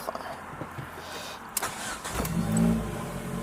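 An ethanol-fuelled Mercury Cougar with 234,182 km, started cold, cranks briefly and catches, then settles into a steady mid-pitched idle close by.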